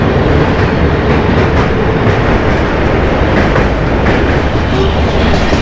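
The Ranchi-Howrah Intercity Superfast Express crossing the Kangsabati (Kansai) river in India: a loud, steady rumble and rattle of the rolling train that continues unbroken with no voices.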